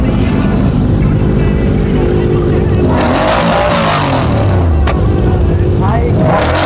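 Kawasaki superbikes, including a ZX-6R, along with a ZX-10R and Hayabusa, roar and rev loudly at a crowded superbike meet. Engines rise and fall close by as people talk underneath.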